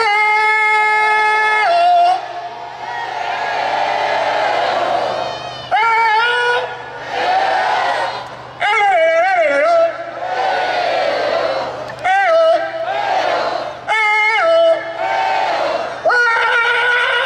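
A large crowd at a town's patron-saint festival opening proclamation in Fuenlabrada roars a long, loud collective shout, followed by bursts of yelling and cheering interrupted by brief pauses.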